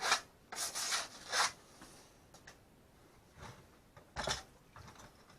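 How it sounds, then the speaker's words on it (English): Small piece of sandpaper rubbed against the cut end of PVC pipe to remove a burr, several short scratchy strokes in quick bursts, then a pause and a final rasp, quiet and close. "I have a little sandpaper. We're just going to just get that burr off the bottom."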